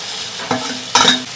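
Bean paste and spices stir-fried in hot oil in a wok, a soft steady sizzle broken by two sharp scraping stirs of a spatula.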